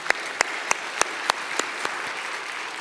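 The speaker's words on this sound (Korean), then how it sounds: "박수로 한번 영광 돌립시다." Congregation clapping during a New Year's Eve church service in Korea, a steady roll of applause with several sharp, louder claps standing out, close and filling the clip without speech.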